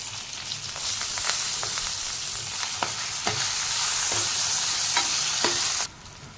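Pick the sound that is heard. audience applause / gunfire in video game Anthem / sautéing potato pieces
sautéing potato pieces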